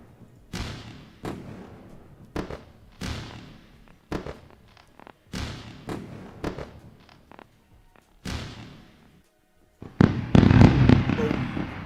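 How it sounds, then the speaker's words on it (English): Fireworks sound effect on a live trading stream: a series of sharp booming bursts, each followed by a crackling decay, arrives at uneven intervals and ends in a louder, denser crackling flurry. "Let's go for fireworks."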